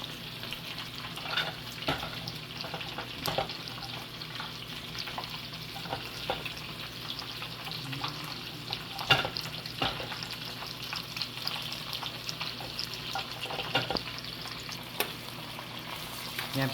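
Onions tipped into hot oil with chili and garlic in a pan, a close, continuous sizzle and crackle with scattered stirring scrapes and small pops throughout.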